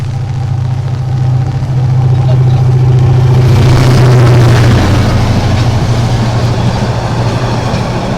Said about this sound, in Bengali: বর্তমানে ট্রেন আসছে